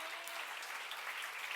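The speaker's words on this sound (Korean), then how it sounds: "빨리 박수" A church congregation claps together in steady, dense applause, a continuous bright patter filling the room at moderate volume with no voices on top.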